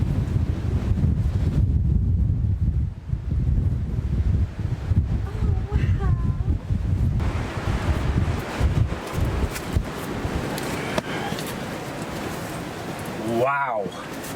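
Strong wind buffets the microphone on a rugged coastline near an ancient broch, a loud, constant roar with gusts and rustling, speech faintly mixed in.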